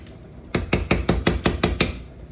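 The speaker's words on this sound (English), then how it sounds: "So add a little quick stir" A quick stir of a pot of Southern tomatoes, corn and okra: eight rapid, evenly spaced metallic clinks of a utensil against the pot, close and distinct after a brief quiet start.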